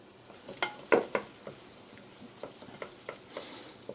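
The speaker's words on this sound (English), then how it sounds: "Okay, butter, flour, mix it together." Butter and flour for a roux are stirred together in a pan on a lowered stove, giving soft irregular scraping and tapping strokes over a faint sizzle, close and quiet with no talking.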